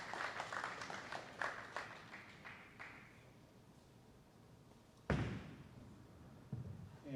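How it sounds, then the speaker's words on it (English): Applause for bowler Paul McCordic at a senior bowling tournament, a quick burst of claps that fades within a few seconds, followed by a sharp thud and some lighter knocks. "Round of applause for Paul McCordic."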